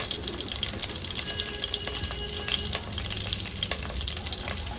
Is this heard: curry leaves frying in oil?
yes